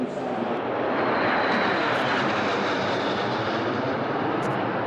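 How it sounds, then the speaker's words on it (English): Sixteen RAF Harrier jump jets make a flypast in groups of four over Cottesmore, a loud, continuous jet roar filling the whole stretch with no talk. "After a short flight, the 16 jets returned to Cottesmore and performed a flypast in groups of 4"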